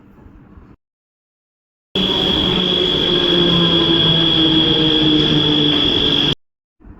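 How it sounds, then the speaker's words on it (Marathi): A local train pulling into a station platform near Diva, a loud sustained rumble and metallic whine that rises after a brief gap and holds steady before cutting off. "तेवढ्यात आली ट्रेन."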